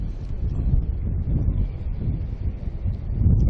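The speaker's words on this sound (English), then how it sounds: "it's really windy here. It'd have to be, oh, I'd say 20 kilometre breeze here" Strong wind buffets the microphone with a steady low rumble and roar that swells near the end, with no voices.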